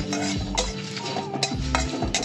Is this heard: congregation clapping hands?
no